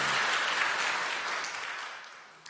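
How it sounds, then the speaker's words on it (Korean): A church congregation applauds during a Sunday worship service at Kyungdong Church to welcome new members: dense, steady clapping that fills the room, then thins and fades toward the end. "여러분들 환영의 박수 부탁드립니다."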